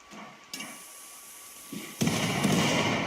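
A turret exploding in the colony-building game Rimworld, with a softer pop followed by a loud, sustained crackling blast that fills the rest of the moment, heard without any talking.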